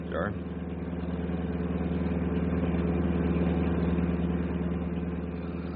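Bus motor running at a steady idle-like drone, continuous and moderately loud, with a person speaking briefly over it at the start.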